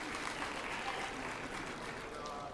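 An audience at a Hall of Fame induction gives a steady, even round of applause for an inductee, a fairly soft, continuous patter of many hands with faint crowd murmur underneath.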